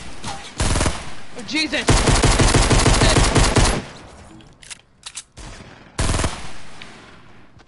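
Video game gunfire comes in loud, rapid bursts of shots separated by short pauses. A player's voice cries out between them.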